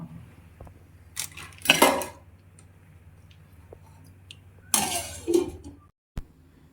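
A plate set over a pot of drumstick-leaf sambar as a cover: two brief metallic clanks and scrapes, some seconds apart, against a quiet background hum.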